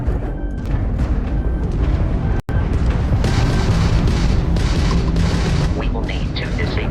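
Ship weapons firing during space combat in the Starfield video game, a dense, continuous barrage of booming, rumbling blasts with a brief cut partway through, loud and sustained, with a speaking voice woven into the mix.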